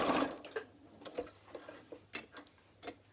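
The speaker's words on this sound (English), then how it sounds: "we're going to insert the needle, pivot once more, and sew to that 2nd pen mark, finishing with a reverse stitch" A domestic sewing machine stitches fabric for a fat-quarter book cover, running in a few short, rhythmic bursts with clicking pauses between them, close and clear.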